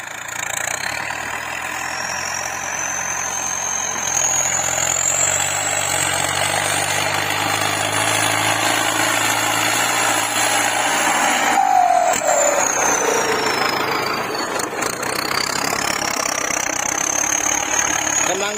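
A Ford 6600 tractor with a turbo engine idles steadily and close, a loud continuous diesel rumble with a high whine that slowly rises and falls, while someone talks over it.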